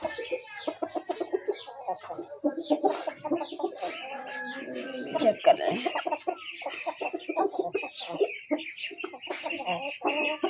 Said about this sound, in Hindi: यार ये मुर्गी है